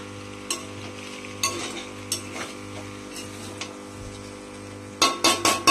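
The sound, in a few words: stirring food frying in a pan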